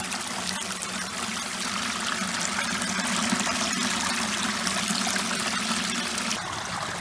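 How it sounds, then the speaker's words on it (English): Leaking water near a pond pours steadily through a gap and falls into a large hole, making a continuous rushing, splashing stream that stays at an even level and sounds close. "Now the water's coming through here, falling down in a big old hole."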